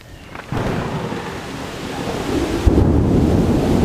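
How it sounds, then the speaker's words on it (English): Deep rumbling thunder rolls continuously, swelling louder partway through, with a broad windy roar underneath and no voices. "it sounds like there is a very nasty storm heading this way"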